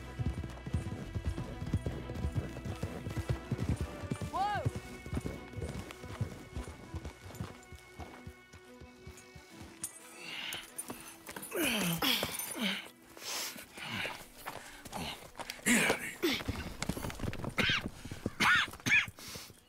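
Several horses clip-clop along at a walk in Red Dead Redemption 2, hooves knocking steadily, with snorts and a brief whinny against the game's ambient background.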